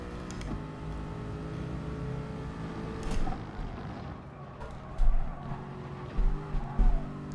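Race car engine in GT Sport, a racing video game, droning close and steady as it rises and falls through gear changes and braking, with brief tire squeals and thumps along the way.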